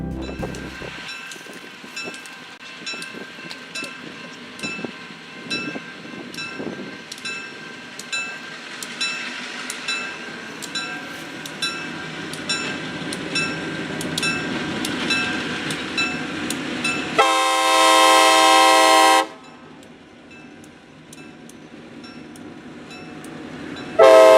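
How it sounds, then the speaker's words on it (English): A train rolls past a railroad crossing near Tremont City, Ohio, with steady rhythmic clacking of wheels over rail joints, then a loud, sustained horn blast sounds up close before fading. "We next catch the train at the Upper Valley Pike Railroad crossing just south of Tremont City, Ohio."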